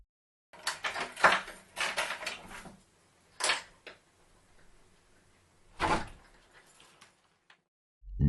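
A front door is unlocked and opened in a quiet indoor space: bursts of rattling handle and latch clicks, then a pause and a final clunk, with soft creaks between.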